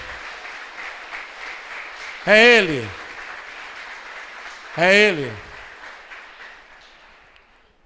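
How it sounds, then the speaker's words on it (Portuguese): Church congregation applauding during a sermon, a steady bed of clapping heard under a preacher's voice as he calls out twice, the clapping gradually tapering off toward the end. "Você pode aplaudi-lo?"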